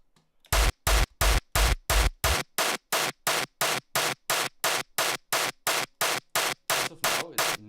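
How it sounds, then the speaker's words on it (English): A synthesized white-noise sound fires as about twenty short, evenly spaced hissing bursts. The first few carry heavy sub-bass and the later ones are thinner, as the noise is shaped toward a drum punch in music production. "It's just white noise, as you can hear."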